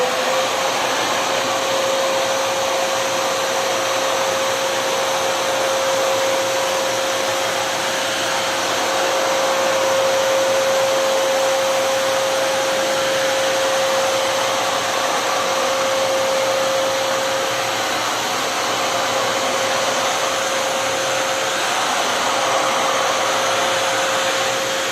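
An AGARO ACE 1600W wet and dry vacuum cleaner runs with its brush attachment, giving a steady, loud motor whine with an airy hiss that holds evenly throughout, with no talking.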